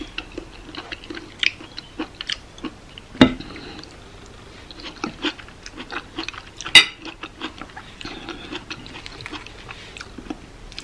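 Close, moist chewing of mushroom from an English breakfast, with soft irregular crunches and squishes and two sharp clinks partway through, no talking.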